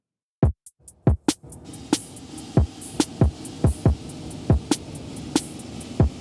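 Sharp drum hits ring out one after another with a long, shimmering reverb tail from a Cubase 14 Shimmer reverb effect washing over them.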